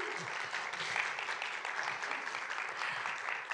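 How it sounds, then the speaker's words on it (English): An audience at a literary reading applauds an author, a steady wash of many hands clapping that holds evenly throughout, heard from within the room. "applause."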